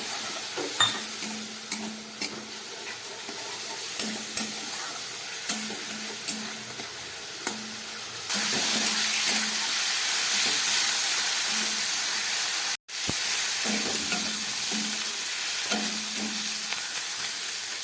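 A spice paste with chilli powder and a splash of water sautéed in a pan for a fish curry: a continuous sizzling hiss, growing louder halfway through, with a regular spatula scrape about once a second.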